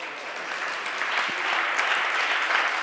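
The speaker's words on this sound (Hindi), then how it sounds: "बजाओ बजाओ ताली बजाओ" An audience at a Hindi religious discourse after morning aarti claps together in a dense, sustained wash of applause that holds steady and swells slightly over a few seconds.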